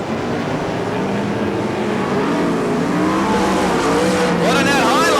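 USAC Western States sprint cars race on the Bakersfield, California track, engines roaring loud and continuous as a pack passes down the front straightaway, with a pitch sweep near the end and a voice talking over the racket.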